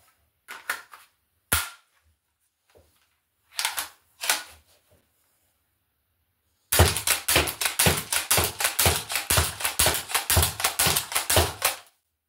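An M10 Steambow crossbow fires a few scattered shots, then looses a rapid, evenly spaced burst of sharp, loud snapping releases at close range.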